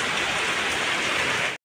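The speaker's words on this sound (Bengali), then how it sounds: "বৃষ্টিটা কমুক" Rain falls steadily, a dense, even hiss of drops close by that runs unbroken and then cuts off abruptly, with no voices.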